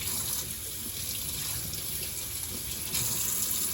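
Steady running water from a tap splashing over a removed Dyson V15 cordless vacuum part being rinsed in a sink, a continuous close hiss and gush with no talk.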